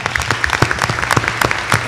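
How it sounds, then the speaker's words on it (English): At a community meeting on race relations, a roomful of people gives the kids a hand, brisk sustained clapping close by with sharp individual claps standing out, loud and steady. "If y'all can't give them a hand clap for coming"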